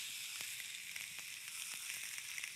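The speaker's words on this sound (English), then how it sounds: "Listen to that sizzle." An olive-oiled ahi tuna steak sizzles on a hot grill, a steady bright hiss with faint crackles, heard alone and fairly quiet.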